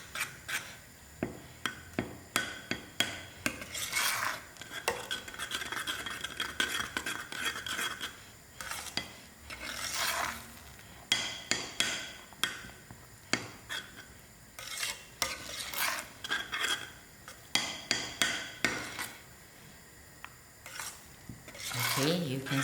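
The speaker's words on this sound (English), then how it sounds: "That's the reason why you have to Continue stirring." Spoon stirring thickening hulwa in a pot, a steady run of scraping, rasping strokes against the metal with short pauses between bursts, close and fairly soft, with no talk.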